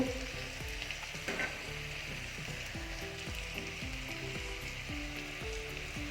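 Cauliflower stir fry with chilli powder, garam masala and salt sizzles in a pan while a spoon stirs it in a steady rhythm, scraping several times over the constant frying hiss.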